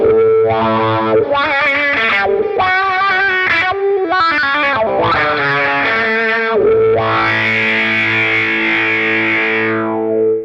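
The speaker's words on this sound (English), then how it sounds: "Let's compare how the wah pedal sounds before and after the distortion pedals." An electric guitar run through a wah pedal and distortion pedals plays loud, sustained distorted notes and chords, the tone sweeping and shifting through short phrases before a long held chord.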